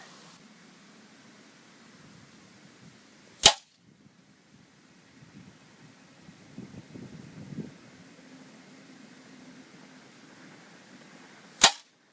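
A Daystate Airwolf MCT air rifle fires at a 100-yard target: two sharp, sudden cracks several seconds apart over a faint, windy outdoor background.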